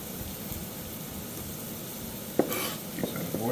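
A pan being stirred to keep risotto with mushrooms and zucchini from sticking, with a soft scraping under low background sizzle and a few sharper clinks of the spoon against the pan near the end.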